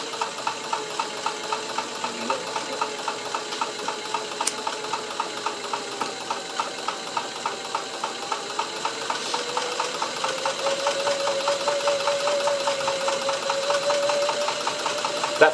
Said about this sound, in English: He's going to stitch over his stitch, making it a stitch over stitch.